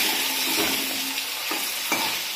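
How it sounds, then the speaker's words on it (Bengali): An egg fries in a pan with a bright, continuous hiss close by, marked by a couple of brief scrapes or taps near the end. "এই দেখো ডিম ভাজা হচ্ছে কিন্তু"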